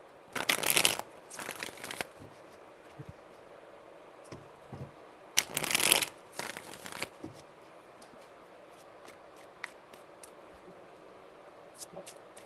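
Tarot cards being shuffled in two quick bursts of crisp riffling a few seconds apart, close and fairly loud, then soft handling taps and rustles in a quiet room.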